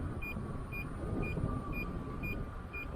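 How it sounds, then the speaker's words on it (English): A Sherman S electric unicycle gives six short, evenly spaced warning beeps, fairly faint, under heavy roaring wind buffeting while riding outdoors. "every time I get wind, I get beeps"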